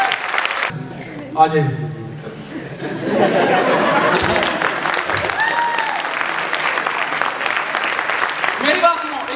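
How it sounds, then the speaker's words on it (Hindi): An audience at a training seminar breaks into loud applause that builds after a few seconds and holds steady, mixed with laughter and a speaker's voice at the start. "अपने लिए एक बार जोरदार तालियां करिए।"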